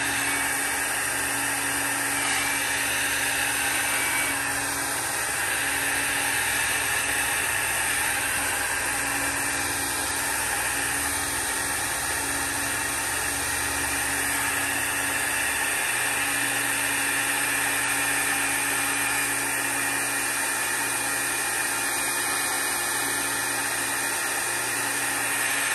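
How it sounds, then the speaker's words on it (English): A steady, loud roar of blowing air from a hand-held dryer runs unbroken throughout, with no pauses or voices. "I'm trying to turn my dryer on and off with my hand."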